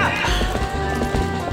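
Horse galloping in The Legend of Zelda: Twilight Princess, rapid rhythmic hoofbeats close up over a busy game soundscape.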